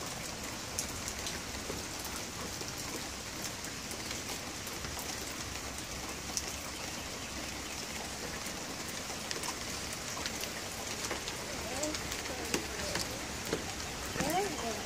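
Steady rain falls outdoors in a constant, even hiss with scattered drops pattering on nearby surfaces, continuous throughout with no break, while faint voices sit beneath it.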